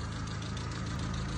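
A 2000 Daewoo Nubira 2 with a 1.6-litre engine idling steadily at close range, a low, even rumble with a faint regular knock running through the whole stretch, with no voices.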